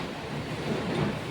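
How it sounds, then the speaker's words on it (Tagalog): A steady roar of strong typhoon wind in the Bicol region of the Philippines, dense and unbroken, sounding like a storm blowing hard outdoors. "Sobrang lakas pa rin ng hangin"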